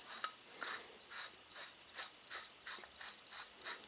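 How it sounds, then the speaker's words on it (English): An MSR WhisperLite Universal stove pump being screwed into its fuel bottle, giving soft, quiet rubbing and rasping twists repeated in a steady rhythm. "From here I'm going to tighten the pump."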